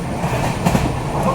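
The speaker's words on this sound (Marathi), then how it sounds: "कोकण रेल्वे" A Konkan Railway passenger train runs steadily on a route through hills and tunnels, its continuous rumble and faint wheel clatter heard from inside, with a couple of slightly louder knocks partway through.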